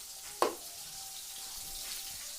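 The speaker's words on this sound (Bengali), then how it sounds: "আর এইদিকে বসিয়ে দিয়েছি মাছ ভাজা" Fish frying in a pan in a home kitchen, a soft steady sizzle at moderate distance with one sharp clack near the start and no one talking.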